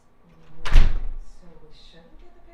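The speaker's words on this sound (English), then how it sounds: "Did she just grab the door handle?" A door handle is grabbed and the door gives one heavy, close thunk, loud and brief with a short rattling tail, followed by quiet background voices at a Phillies game.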